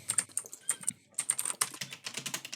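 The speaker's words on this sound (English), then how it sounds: "Yeah, you can hear my mechanical keyboard." Typing on a mechanical keyboard, a close, brisk run of sharp clacks with a short pause near the middle before the keystrokes resume, heard alone.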